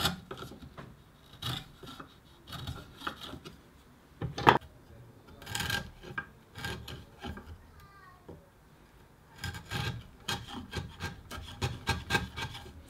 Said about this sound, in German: Deshalb hobel ich eine kleine Mini-Faser an, so fassen sie sich auch angenehmer an.